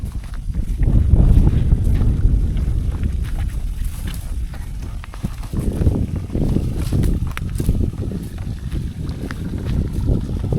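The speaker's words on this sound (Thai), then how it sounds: "โอ้ลมแห้งลมเลยเนาะ" Dry wind gusts across a mountain hillside near a highland village in Laos, a continuous low buffeting roar that swells and eases throughout, close and fairly loud with no voices.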